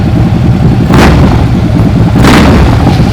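Harley big bike engine turning over and running with a steady low rumble throughout, swelling in two short loud bursts like revs or starting catches, no talk.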